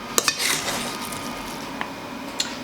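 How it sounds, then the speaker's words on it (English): Utensils scrape and clink against a bowl while vegetarian tuna salad is mixed, a few sharp taps at the start and near the end around a steady, muffled stirring rustle, close and without talking. "let me get this all mixed up and moved into a bowl"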